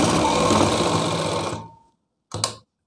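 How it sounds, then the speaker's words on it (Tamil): Sewing machine stitching a reused school uniform coat into a small child's dress, running steadily for about a second and a half, then stopping, followed by a brief second burst of stitching; no talk. "ரெண்டாவது தையல் போட்டுக்கிறேன்."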